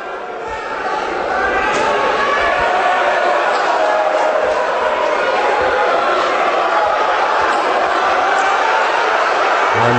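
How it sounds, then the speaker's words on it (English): A boxing arena crowd screams and roars for a fighter in a dense, continuous wall of noise, with a commentator talking over it. "the crowd screaming for him as he tries to go to work here"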